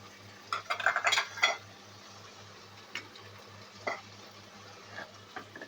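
Chicken with biryani spices and fried potatoes is stirred in a pan, with a few bursts of spoon scraping against metal early on and scattered soft clinks later over a low, steady background hum.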